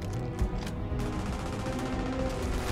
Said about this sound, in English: They're shooting at something.